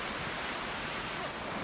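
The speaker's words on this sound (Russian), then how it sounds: "на живые водопады." Winter waterfalls at Plitvice Lakes, Croatia, produce a steady, dense roar of rushing water that holds at an even, fairly loud level throughout, with no voices.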